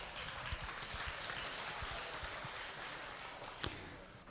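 Faint applause from a crowd at a county fair swine show, a steady wash of clapping with a few sharper claps, heard at a distance.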